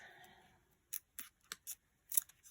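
Five or six crisp scissor snips cutting through paper, close and distinct, spaced at an uneven rhythm after a brief faint noise at the start.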